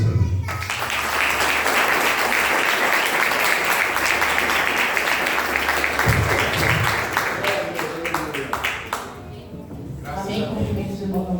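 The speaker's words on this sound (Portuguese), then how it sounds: "Receba com palmas de você." A church congregation at a campaign service in Jardim São Paulo bursts into thick, steady applause that carries on loudly, then thins out near the end, with a voice talking over it.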